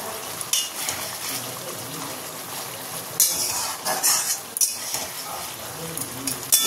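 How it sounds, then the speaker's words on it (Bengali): A masala of tomato and green chilli paste fries in a pan for a fish curry, giving a low sizzle broken by repeated scraping and clinking of a spoon against the pan as it is stirred. "এখানে হচ্ছে যে টমেটো আর কাঁচা লঙ্কা বাটা দিয়ে মশলাটাকে কষছি"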